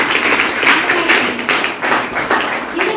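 An audience at a training seminar in Kaimur, Bihar breaks into loud, continuous applause, a dense patter of many hands that ripples unevenly for a few seconds.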